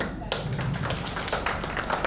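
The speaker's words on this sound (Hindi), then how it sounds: "आप सर सेंटर में आइए और सर के लिए जोरदार तालियां" A conference audience applauds with dense, continuous clapping over a short stretch, with voices audible underneath.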